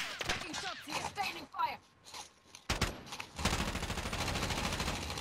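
Call of Duty Modern Warfare gunfire: a few sharp shots break through early amid voices, then a dense burst of rapid automatic fire roars steadily through the final seconds.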